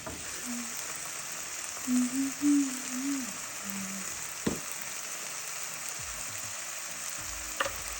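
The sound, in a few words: frying and stirring potatoes with onion, hing, salt, turmeric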